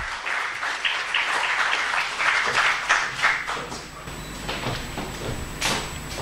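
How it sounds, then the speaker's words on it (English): Audience applause at an evening talk event in Lahore, a dense steady clapping from a crowd for several seconds that thins out toward the end. "Please give a big round of applause for Mr. Humayun Mazhar, who is the President"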